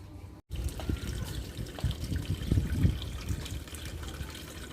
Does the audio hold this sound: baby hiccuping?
no